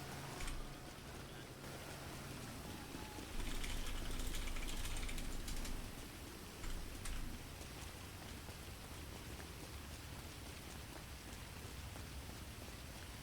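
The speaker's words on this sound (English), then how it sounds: "It's because it's pouring with rain." Heavy rain pours down in GTA V NoPixel roleplay, a dense continuous hiss of drops on surfaces, with brief mechanical clicking bursts early and midway, faint overall and without voices.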